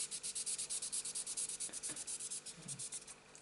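A sanding stick rubbed back and forth over a plastic part from a Trumpeter U-boat model kit, rapid evenly spaced scratchy strokes close up that slow and fade near the end.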